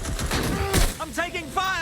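A short burst of gunfire crackles in the Watch Dogs Legion video game, followed by game character voices speaking over the fading noise.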